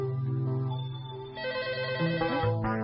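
Telephone ringing in an old Uyghur film scene, a single electronic trilling ring with tonal warble, close and clear, with background music tones beneath and no talk.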